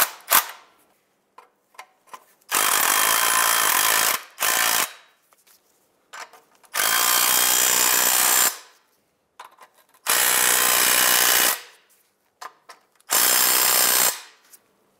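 A power tool tightens the front catalytic converter nuts on a 2007-2015 Mazda CX-9 in four loud, close bursts of about one to two seconds each, separated by quiet gaps with small clicks and handling noises.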